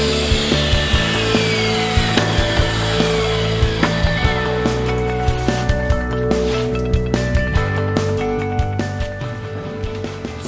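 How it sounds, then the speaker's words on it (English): A tile piece is cut on an angle for a mitered corner, a continuous loud grinding and whining saw with tonal hum and a rapid ticking chatter, easing slightly toward the end. "Next, we're going to take just this divot out here, cutting it on an angle right across there."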